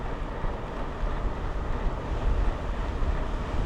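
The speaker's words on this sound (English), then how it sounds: "We're going into the wind here" Steady, loud wind roar buffets the microphone while riding a Lectric XPedition 2.0 e-bike into a headwind at pedal assist level 5, a continuous low rumble with no speech.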